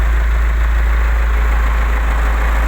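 A heavy Case tractor engine, just repaired, idles steadily with a deep, constant rumble and vibration, close and loud, with no voices.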